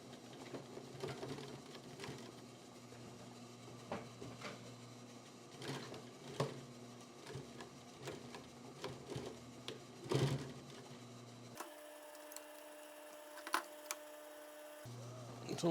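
A sewing machine runs at a steady low hum, fairly faint, with scattered small knocks and clicks over it. Near the end it shifts to a brief, thinner, higher-pitched stretch.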